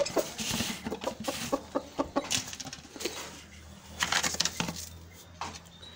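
Aseel chickens in a cage, close and fairly loud, giving a rapid run of clucks and short calls in uneven bursts, with brief rustling movement.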